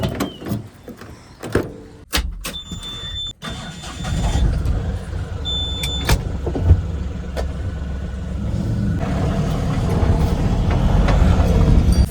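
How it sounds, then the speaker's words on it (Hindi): A car at a company premises starting up, with clicks and a door or window thump first, then the engine catching and running steadily as it is pulled out, loud and close, no talk. "और देखो गाड़ी निकाल रहा हूँ, ये गाड़ी निकाल रहा हूँ।"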